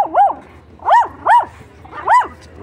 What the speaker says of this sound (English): That dog has a lot to say over here.